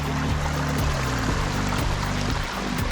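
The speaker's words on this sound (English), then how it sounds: "The bubbling little brook" A bubbling little brook runs beside a trail in the Green Mountain Nature Preserve, Huntsville, its continuous rushing, gurgling water loud and close throughout.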